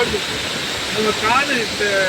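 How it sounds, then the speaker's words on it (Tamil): A flooded waterfall on a farm, with floodwater leaping and rushing down, makes a steady broadband roar of falling water, fairly close and continuous, with faint voices in the background. "அப்படி தண்ணி வந்து அப்படி குதிச்சு குதிச்சு ஓடி வருது அவ்வளோ தண்ணி வருது"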